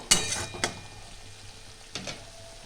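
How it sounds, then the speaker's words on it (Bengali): Spice paste for a Bengali katla fish curry sautés in a pan, a low steady sizzle with a few scraping stirs near the start and again later, no talking. "মশলাটা আমার কষানো হয়ে গেছে প্রায়।"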